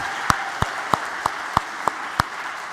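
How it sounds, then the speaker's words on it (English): A lecture-hall audience at an introductory computer science class gives a round of applause, heard as seven crisp, evenly spaced claps in a steady beat, with no talking over them. "just one round of applause for everyone who's helped out this semester"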